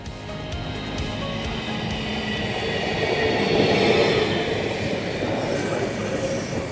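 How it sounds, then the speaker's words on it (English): Interior rumble of a Valley Metro light rail train under way, a steady low roar of wheels and motors with faint rail clatter, swelling slightly midway and continuing without talk. "come with me on board the Valley Metro Light Rail System on a ride with CEO Jessica Mefford-Miller."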